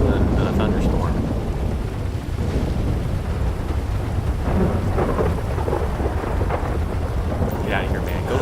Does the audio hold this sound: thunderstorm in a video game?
yes